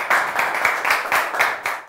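An audience claps steadily to welcome a singer onto the stage at a televised Azerbaijani singing contest, a dense, even round of close applause with no voices over it.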